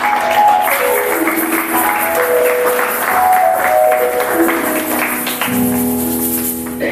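A church congregation applauding Jesus during a deliverance service, sustained loud clapping from a crowd with tonal music or singing running through it.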